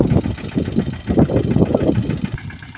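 A Yuvraj tractor working a pigeon pea field with a tine cultivator. Its diesel engine chugs close by with an uneven knocking rumble, rising and easing as it moves, with no talk.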